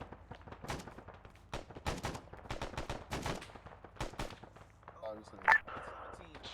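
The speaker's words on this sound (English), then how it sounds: "there's someone shooting" Gunfire in a military video game, with bursts of sharp shots and rapid automatic fire at mid distance, some in clustered volleys, under a faint radio-like voice near the end.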